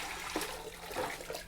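Water poured into a bowl for Korean dak-hanmari chicken soup, a steady close splashing and trickling stream with a few louder gurgles, no talking.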